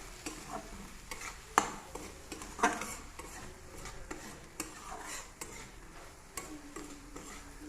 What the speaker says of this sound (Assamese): মই এবাৰ লৰাই দিছোঁ আৰু এবাৰ